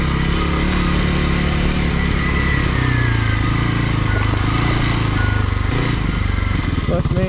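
A Kawasaki KLX300R dirt bike runs off-road, its engine close and loud with a steady droning note that rises and falls as the rider works the throttle, a voice speaking over it at times.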